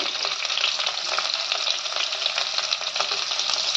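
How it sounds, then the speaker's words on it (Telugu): Onions with curry leaves, green chillies, bay leaf, cloves and cardamom fry in hot oil in a pan, giving a loud, continuous, close-up sizzle that runs without a break. "ఉల్లాకు మంచిగా వల్ల అయ్యేదాకా వేయించుకోవాలి"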